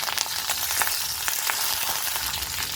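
Mustard seeds, urad dal, dried chillies and curry leaves fry in hot oil, a loud, close, continuous sizzle with fine crackles and pops throughout.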